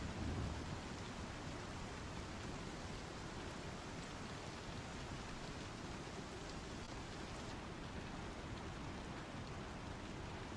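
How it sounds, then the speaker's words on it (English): Steady, dense hiss of rain falling inside a ship's cargo box in Star Citizen, an even wash of drops that stays constant throughout with no voices. "the rain is falling in within the cargo box. Inside the ship."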